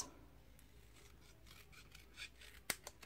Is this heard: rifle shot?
no